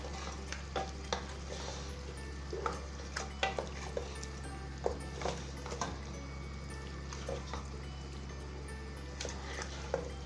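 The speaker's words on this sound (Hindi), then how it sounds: "चांपें ऐड करने के बाद फ्लेम हमारी मीडियम करके इनको 5 मिनट के लिए भूनेंगे" Beef chops frying in a masala over a medium flame, a faint steady sizzle under a constant low hum, punctuated by scattered stirring taps and scrapes of a utensil against the pot.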